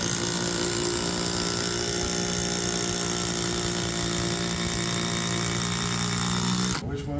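A new impact driver whirs loudly and continuously at close range for several seconds, then cuts off abruptly at the end.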